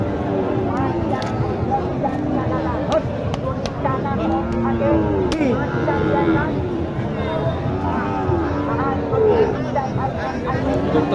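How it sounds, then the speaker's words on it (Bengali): Cows lowing amid a busy livestock market selling Sahiwal and Gir heifers, repeated drawn-out moos mixed with close talking and crowd chatter throughout. "এখানে আরেকটি গরু আছে হিটে আসার উপযোগী"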